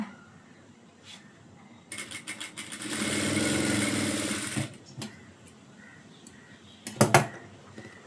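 Sewing machine stitching a blouse: short stop-start runs of the motor and needle, one longer steady burst in the middle and a quick final spurt, close and fairly loud.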